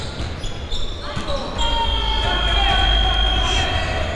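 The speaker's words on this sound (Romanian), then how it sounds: "Și s-a auzit o sirenă." During a Romanian basketball game between BC Athletic and CS Phoenix Galati, a sustained, tonal shot clock siren blares over the noisy arena crowd and court sounds. A commentator talks throughout.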